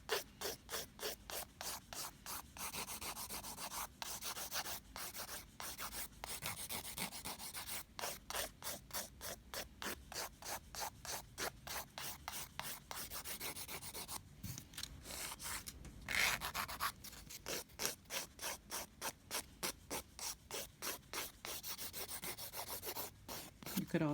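Light, steady filing across NSI PolyPaste nail product, a quick rhythmic rasping stroke repeated many times, close and fairly soft, with a brief pause partway through and no voices.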